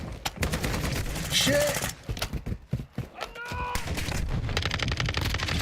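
Gunfire in the Black Ops 6 video game: scattered shots early, then rapid bursts that turn into a dense, continuous volley near the end, with a player talking and swearing over it.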